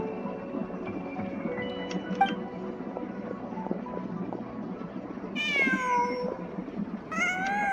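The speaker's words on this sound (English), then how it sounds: "Just a cat." A cat meows in the video game Genshin Impact, two short rising-falling cries near the end over a soft, steady ambient music bed.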